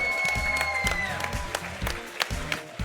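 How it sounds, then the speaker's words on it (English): Audience applause for the Beach Episode team at a collegiate Smash tournament, a steady wash of many hands clapping with a few louder sharp claps standing out, over a faint background tone. "everybody give me a round of applause for the Beach Episode team"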